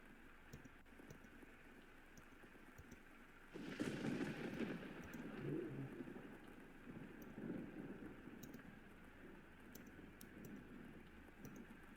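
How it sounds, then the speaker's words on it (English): Steady rain hisses in the background of a visual novel game, thickening into a heavier wash partway through with a low rumble, then continuing as an even patter. "Such cold rain"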